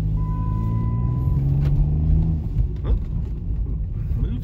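Chrysler 300 engine idling with a low steady hum, then shifting into gear and pulling away with a deeper rumble, close by, with a brief voice over it.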